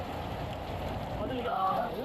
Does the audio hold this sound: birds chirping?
no